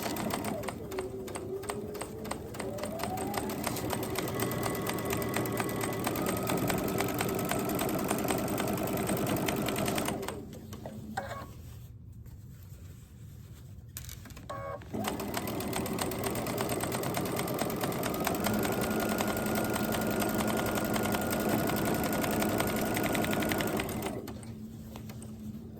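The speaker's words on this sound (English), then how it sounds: "Take it to the machine and start from the very corner, stitching 1/4 inch." A sewing machine stitches fabric for a February door hanger in two long steady whirring runs of rapid needle beats, with a brief quieter pause between them, close and loud with no talk.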